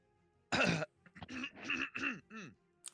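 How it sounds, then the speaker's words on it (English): A woman clearing her throat in a burst, then a series of shorter raspy vocal bursts, fairly close with no speech. "clearing her throat"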